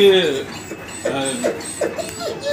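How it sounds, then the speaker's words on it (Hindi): Dogs of a native Indian breed at a cow-breeding centre in Buxar, Bihar, let out several short whimpers and yips, close by, with speech around them. "ये जो कुत्ते हैं ये इंडियन ब्रीड है जी, टोटल इंडियन ब्रीड है जी"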